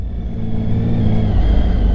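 A motorcycle engine revs loudly and close up at a motorcycle competition on a technical maneuvering course, a steady low droning growl that rises slightly over two seconds.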